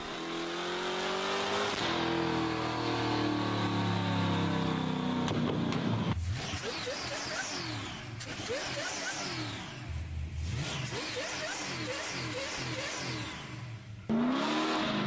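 A car on a dyno revs hard, its engine note climbing and falling through repeated sweeps, loud and continuous with a sharp burst near the end.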